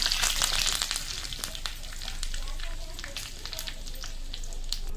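Curry leaves crackle in hot oil with cumin, mustard seeds and small dried chillies for a tempering, close, bright sizzling with sharp pops that eases slightly after the first second, heard alone.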